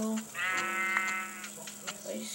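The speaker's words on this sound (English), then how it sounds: "I'm gonna kill the sheep for its wool." A sheep in the video game Minecraft bleats in a wavering, nasal call that stands out clearly, with a brief tone before it and short clicks of game sounds around it.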